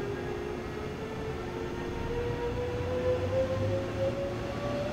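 A BR 146.2 electric locomotive in Train Sim World 5 moves off, its steady rumble and rising motor whine building gradually at moderate level with no talking.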